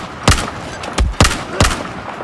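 Four heavy, booming shots from a powerful gun ring out in Battlefield 4. They come close and loud in an uneven rhythm, with no talk.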